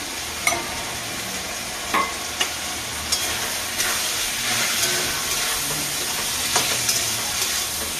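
Spices, including chilli powder and cumin powder, sizzle softly in a pan for motor ghugni while a spoon stirs them, adding intermittent scrapes and clicks over the steady frying hiss.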